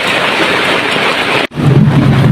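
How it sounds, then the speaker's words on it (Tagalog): Heavy rain pours loudly during a rainy-season thunderstorm, a dense close hiss that briefly cuts out before resuming with a deep low rumble of thunder underneath. "Ang lalakas ng mga kulog at kidlat guys."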